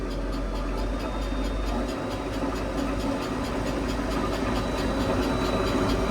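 A Savage log processor's engine revving slightly higher, a steady mechanical drone with a rhythmic pulsing beat and a low rumble, heard close and unaccompanied.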